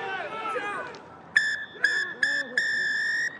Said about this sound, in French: Holly Davidson qui siffle la fin de cette rencontre